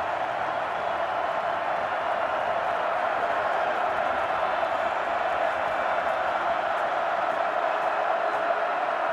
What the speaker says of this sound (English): You hear that big red crowd start to get involved here in the first quarter